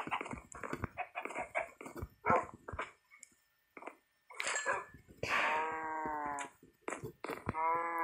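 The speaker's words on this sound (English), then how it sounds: "Now I've got 17 pieces of chicken to feed to my dogs." Several Minecraft dogs make short whimpering and barking sounds while being fed chicken, coming in quick bursts up close, followed by a longer sustained whine with a few more yelps.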